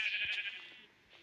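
Sheep in a small-island survival video game let out a bright, bleating cry that fades over about a second, heard alone and fairly close.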